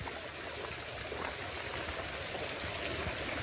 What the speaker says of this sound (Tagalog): Nilalagyan na ng tubig ang ating swimming pool.